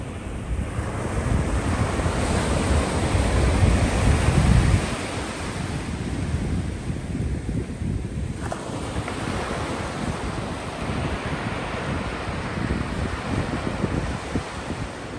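Sea waves wash up on Bagda beach in Odisha, a loud broadband surf roar that swells and breaks close by, heavily buffeted by wind noise on the microphone, with no voices.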